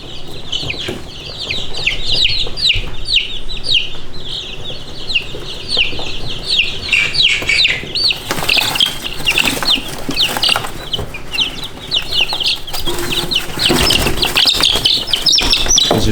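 Young chicks chirp in rapid, high overlapping peeps with occasional clucks, close and fairly loud throughout, a busy continuous flock chatter with louder bursts of fluttering and scuffling near the end.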